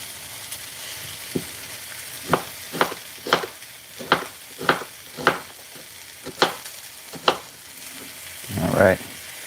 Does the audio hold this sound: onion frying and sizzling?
yes